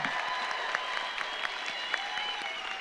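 A large crowd claps steadily and continuously at a college commencement ceremony, a dense wash of applause with no talking over it.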